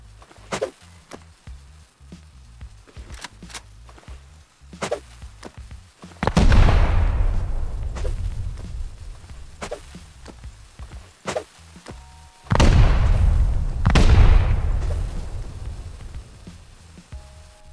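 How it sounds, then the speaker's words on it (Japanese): Satchel charges in the Rust survival game blow through a base wall, with two deep, heavy booms rolling out over several seconds, scattered sharp clicks and thuds between them, and no talking. "さあ、爆発しました。"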